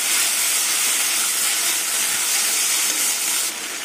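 Water poured into a pan of frying onions gives a loud, steady hiss of sizzling steam. The hiss is close and continuous and eases slightly at the end, with no voices.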